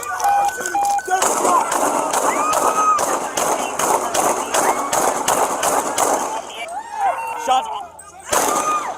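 Bursts of gunfire ring out from a TV police drama playing in the room, with rapid, repeated loud shots under urgent shouting voices.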